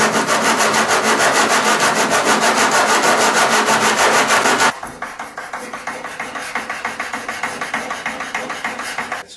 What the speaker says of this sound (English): On the sandboard to get the right contour into it.